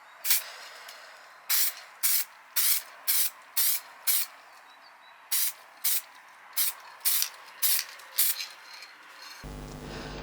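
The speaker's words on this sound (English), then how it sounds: "I spray it with this clear coat." Clear coat sprayed from a can onto 3D-printed 1/10 scale Audi Rotor rims comes in about a dozen short, close hissing bursts with brief pauses between them, followed by a low rumble at the end.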